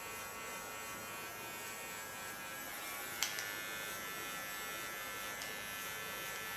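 Electric hair clipper shaving the nape, a steady close buzzing hum with a bright harmonic whine, a couple of faint clicks partway through and no speech.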